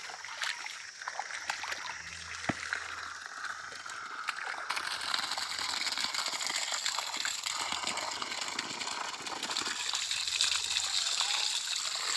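A child bathes outdoors in water from a tullu pump, with steady splashing and trickling water that thickens after a few seconds, and faint voices nearby.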